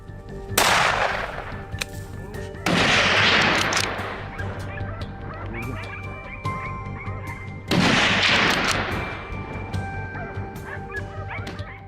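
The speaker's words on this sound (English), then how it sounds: "I raised my rifle and pulled the trigger decisively. The gunshot briefly drowned out the barking" Rifle shots crack out during a boar hunt in rugged mountains, three loud sharp blasts with long ringing tails spread over the clip, while hunting dogs bark and yip steadily underneath.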